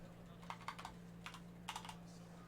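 Soft clicks of typing on a computer keyboard come in quick short clusters over a steady low electrical hum, quiet and close.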